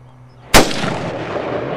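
A single loud hunting-rifle gunshot fired at a wild hog cracks sharply out of quiet outdoor ambience, then rolls away in a long fading echo.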